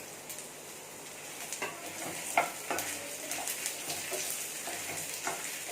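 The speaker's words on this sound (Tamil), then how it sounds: "மீடியம் ஃப்ளேமில் வச்சு கோல்டன் ப்ரௌன் வர்ற வரைக்கும் வறுத்துக்கோங்க" Peeled garlic cloves fry in oil in a pan over medium flame for an anchovy fish curry, giving a soft continuous sizzle with light stirring scrapes, close and moderately quiet, no speech.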